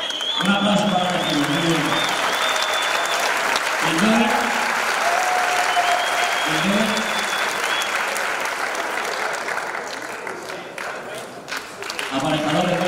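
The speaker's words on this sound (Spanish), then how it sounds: "Un aplauso" An audience at a tuna music award ceremony applauds loudly and steadily, a dense wash of clapping that fades slightly near the end while a presenter speaks over it.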